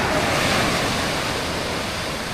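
Sea waves at a beach resort in Aurora Province, a loud continuous rush of surf close by, roaring and washing without pause, with some wind noise and no talking.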